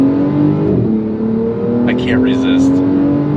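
A 2025 Porsche 911 Turbo S pulls hard on throttle, its engine note droning loud and rising steadily. A voice speaks briefly over it, and a short burst of excited shouting follows partway through.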